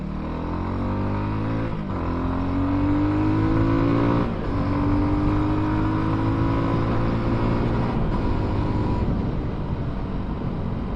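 A Benelli Leoncino 250 motorcycle engine hums steadily while riding, its pitch rising with throttle and dropping at gear changes, a continuous close mechanical drone with no talking.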